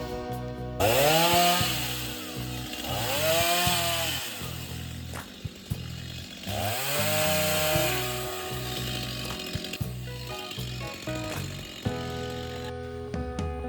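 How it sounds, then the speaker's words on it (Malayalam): Chainsaw cutting straight through an areca palm trunk, the engine revving in loud sustained bursts with pitch sweeps as the chain bites, easing off briefly between cuts and ending with a lower idle. "ഇതൊരു നേരെ തന്നെ കട്ട് ചെയ്യണം"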